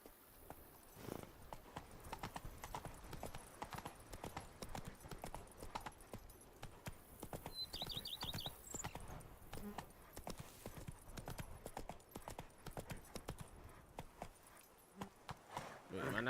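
Roach the horse's hooves clip-clop at a steady walking rhythm throughout a video game scene, close and fairly quiet, with a voice speaking over parts of it.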